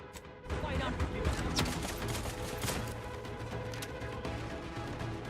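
Gunfire in the video game Outer Worlds 2, dense overlapping shots and impacts in a steady sustained barrage at moderate level, with a voice talking over the fight.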